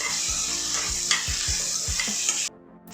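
Schezwan chutney and soy sauce being stirred into a sizzling pan for veg hakka noodles, with a loud continuous hiss, rhythmic scraping strokes from the stirring, and the sound cutting off abruptly near the end.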